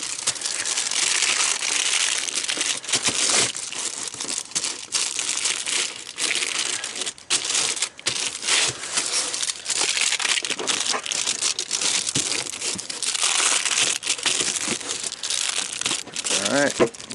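Aluminum foil being folded and creased around all four sides, a continuous loud crinkling and crackling with sharper crumples throughout, with a person talking over it at times.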